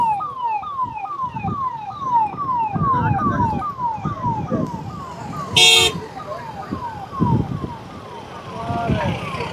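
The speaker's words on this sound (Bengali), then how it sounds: "এই যে পুলিশ প্রশাসনদের গাড়ি ঢুকছে প্রচুর পরিমাণে" Wailing sirens sweep up and down continuously over traffic rumble and vehicle noise, with a brief sharp horn-like burst midway; no clear talk.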